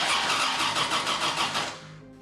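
A 1970s DeTomaso Pantera supercar's engine cranks and catches, giving a loud, steady, buzzy churn that falls away abruptly near the end.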